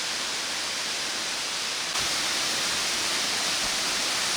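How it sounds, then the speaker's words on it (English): A small waterfall in Phou Phasouk National Park, Laos, runs early in the dry season, giving a steady, even hiss of falling water that grows slightly louder partway through. "a little bit of a waterfall here to check out before I head up to the Hermit Cave"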